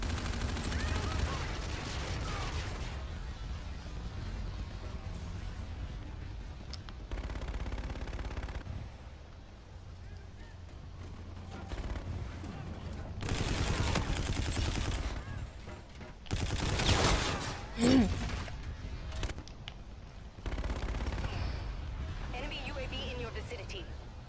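Firefights in Call of Duty: Infinite Warfare, a Kill Confirmed match, with repeated bursts of automatic gunfire and sharp shots coming in loud clusters between quieter stretches. Someone talks over parts of it.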